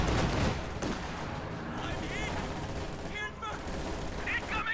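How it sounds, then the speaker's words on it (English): An MG34 machine gun fires in a Company of Heroes–style strategy game battle, heard as dense, continuous rattling gunfire mixed with other battle noise, while a commentator talks over it throughout. "MG34 set up over here on the left side, trying to keep conscripts back."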